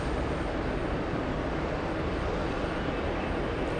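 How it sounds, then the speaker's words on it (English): An Alaska Airlines airliner passes near Los Angeles airport, its dense, steady jet-engine roar holding at an even level for several seconds with no talking. "We have the Alaska Airlines flight."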